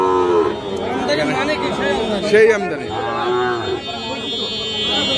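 Cattle moo repeatedly at a busy livestock market selling bulls and calves, the drawn-out lowing rising and falling amid loud nearby talk and crowd chatter.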